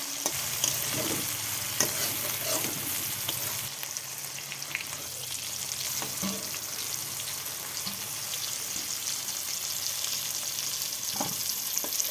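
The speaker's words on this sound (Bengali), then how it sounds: "বন্ধুরা সিমগুলো ভাজা হয়ে গেছে" Steady, soft sizzling and crackling of green beans frying in a pan, with occasional stirring scrapes, no voices.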